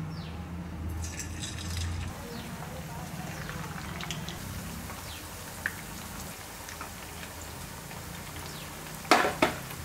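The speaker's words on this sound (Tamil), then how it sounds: "எல்லாம் நல்லா பொரியட்டும்." Hot oil sizzles and crackles steadily like light rain as chicken pieces deep-fry for chilli chicken 65, with a voice speaking over it and a brief clatter of utensils near the end.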